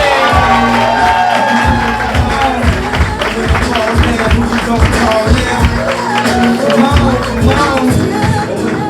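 Audience at a comedy roast battle show clapping and cheering loudly, rapid claps and whoops blended into a close, dense burst that carries on steadily throughout.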